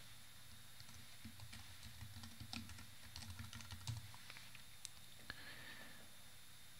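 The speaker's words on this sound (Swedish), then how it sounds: "sedan skriver vi vår signatur" Typing on a computer keyboard to enter a signature: a quiet run of irregular key clicks and taps, steady, with no voices.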